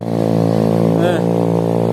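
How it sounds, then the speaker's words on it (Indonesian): Motorcycle engine running steadily on a slippery, muddy red-earth dirt road in the rainy season, loud and close throughout, with people talking over it. "Motor Dewa yang masih di bawah ya"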